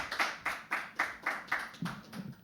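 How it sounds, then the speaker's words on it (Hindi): An audience at a live poetry open mic claps in a steady, rhythmic run of separate hand claps, fairly faint and slightly distant, ending in scattered applause. "एक बार जोरदार तालियों से प्लीज गिव इट अप"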